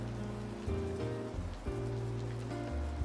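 Steady rain falls in an anime scene where a girl plays outdoors in pretty clothes, a continuous wash of hiss running beneath sustained music tones throughout.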